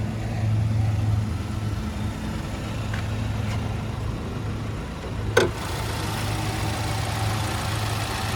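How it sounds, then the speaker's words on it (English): A 2022 Cadillac XT5's 2-liter turbocharged four-cylinder idles under the hood, a steady low hum with one sharp click partway through. "there's that 2-liter turbocharged 4-cylinder"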